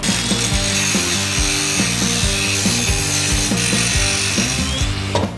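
A flap disc on an angle grinder grinds a moped fork, producing a loud, continuous abrasive whine with rhythmic bursts as the disc is pressed in repeatedly.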